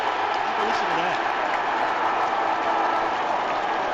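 A football crowd at Melbourne v Hawthorn in 2016 roars with cheers and applause in a steady, dense wash of noise, loud and unbroken throughout.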